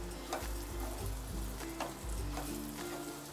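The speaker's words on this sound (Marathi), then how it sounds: "असं चांगलं हे हलवून घेते" Egg rice with chili powder and salt sizzles in a pan while a spoon stirs it, scraping and tapping in a loose rhythm over steady frying hiss, close and clear.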